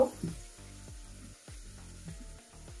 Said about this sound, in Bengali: এখন এর মধ্যে দিয়ে দিব 1 টেবিল চামচ রসুন কুচি। ভালোভাবে ভেজে নেব।